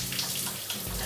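Cold shower water runs steadily at full blast, a dense, close hiss of spray splashing without pause.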